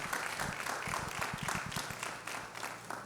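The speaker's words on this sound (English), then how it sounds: "Please give them a round of applause." Audience applause at a marriage conference, greeting volunteers as they come up on stage; steady, moderately loud clapping from a crowd that holds for about three seconds and eases slightly toward the end.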